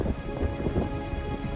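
Rain and thunder from a lightning storm over a fishing spot: a steady dense hiss of rainfall with low rumbling underneath, continuous and fairly loud, with no talking.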